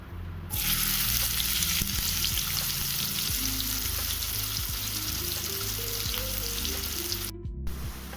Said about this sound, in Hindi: प्याज अब अच्छे से फ्राई हो गया है